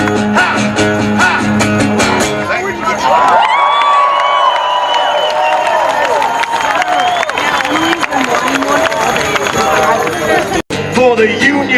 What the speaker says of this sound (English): It's appropriate to cheer loudly now.